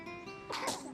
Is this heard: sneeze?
yes